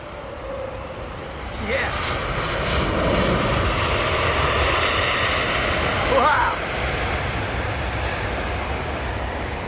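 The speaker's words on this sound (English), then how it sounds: "Sounds like a 767." Jet engines of a Boeing 767 spooling up at Heathrow, heard from a viewing platform at Terminal 4 as a steady loud roar and whine; a voice says a brief word.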